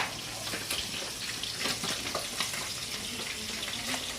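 Food frying in a pan in a home kitchen gives a steady, close crackling sizzle with dense popping that runs throughout without pause.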